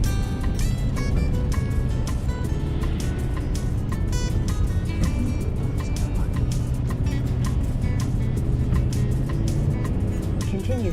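A car drives into the small town of West Glacier near Glacier National Park, with a steady loud road and engine rumble throughout and a continuous wash of noise in the cabin.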